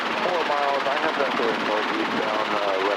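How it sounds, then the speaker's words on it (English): Helicopter in flight on a windy day, its rotor and engine a steady loud roar with a rhythmic beating throughout, heard from inside the cabin with voices mixed in. "when you're flying a helicopter in some wind, it's a workout."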